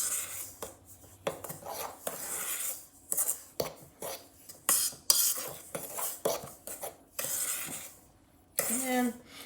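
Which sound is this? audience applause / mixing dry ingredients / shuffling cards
mixing dry ingredients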